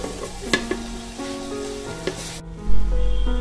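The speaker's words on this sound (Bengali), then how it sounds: "খুব ভালোভাবে সব একসাথে মিশিয়ে নিয়ে আমি সবজিগুলোকে ভেজে নেব, তবে ভাজবো আমি ঢাকা দিয়ে।" Mixed vegetables fry under a lid in a pan, giving a steady close sizzle with a few light knocks, then a louder low rush near the end, with no voices.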